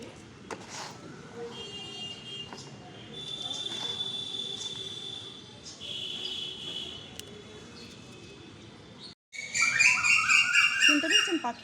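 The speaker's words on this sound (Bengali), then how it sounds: "শুনতে পেয়েছেন পাখির ডাক?" Birds call and chirp from large trees close by, with a cuckoo among them, a steady thin chorus of tweets over light background noise that swells into louder, bright, rapid calls near the end.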